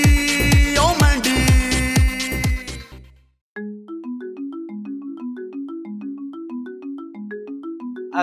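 A phone ringtone plays as a looping melodic tone pattern, loud and steady and heard alone, after a burst of louder music that cuts off into a brief silence.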